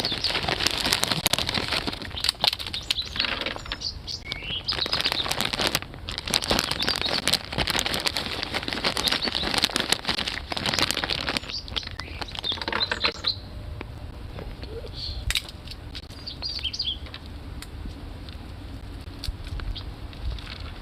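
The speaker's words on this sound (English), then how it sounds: "And some chickadees, I think. Making a bunch of noise over here." Chickadees call and chatter close by outdoors, a busy run of bright chirps and tweets over a soft patter of movement that thins toward the end.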